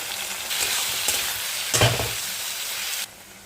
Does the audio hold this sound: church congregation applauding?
no